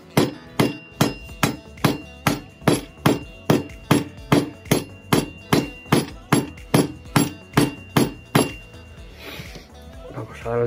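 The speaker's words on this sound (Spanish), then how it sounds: "Incluso vamos a darle con el martillo del otro día" A hammer strikes repeatedly and evenly, fitting a handle onto a tool, about twenty sharp metallic blows close by, then a brief pause with faint rustling.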